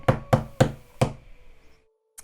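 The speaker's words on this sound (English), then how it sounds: "I'll just give a little knock first." Four firm knocks rap on a door at an uneven pace, close and solid, each one leaving a brief ring that fades into silence.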